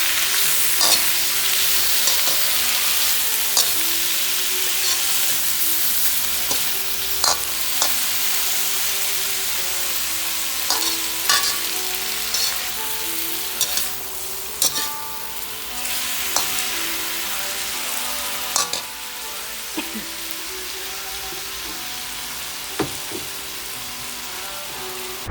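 Steady crackling sizzle of shrimp frying in a hot pan with garlic and ginger, with occasional clinks and scrapes of a utensil stirring, continuous and fairly close.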